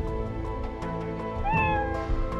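A cartoonish cat meows in the action platformer Skul: The Hero Slayer, several clear, close meows with rising and falling pitch over a steady game music bed, with no talking.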